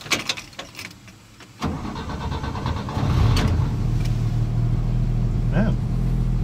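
A 1957 Chevrolet 150 with its inline-six cranks briefly, then catches and settles into a steady, close, rumbling idle, with a voice speaking faintly over the start.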